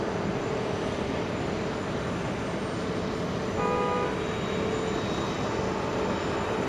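A Virgin Atlantic Airbus A330neo arrives at JFK at night, a steady broadband jet roar holding throughout with a faint tonal whine emerging midway, no voices.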